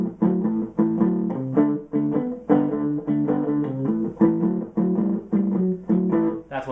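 Blues guitar two-string vamp rhythm, with short chugging double-stop chords repeating in a shuffling pattern, near and moderately loud, played alone without speech.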